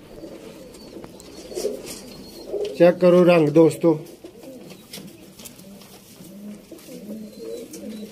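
Soft pigeon coos with a brief burst of throaty warbling in the middle, while someone talks over most of it.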